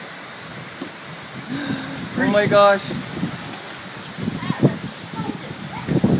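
Heavy rain falls outside open doors during a birthday celebration, a constant wash of noise beneath several people talking and exclaiming close by.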